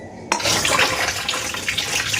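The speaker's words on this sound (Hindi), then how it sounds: "इसको मैं प्रॉपर पानी से धुलकर हल्के हाथों से रब कर दूँगी" Tap water runs steadily and close by while an item is hand-washed and gently rubbed, a continuous broadband splash that starts abruptly after a brief moment of quiet and keeps going with small fluctuations.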